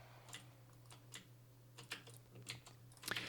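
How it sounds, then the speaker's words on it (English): Keys clack on a loud computer keyboard in quick, irregular bursts, faint and close against a steady low hum. "I'm using the loud keyboard right now, so you're gonna get a lot of that."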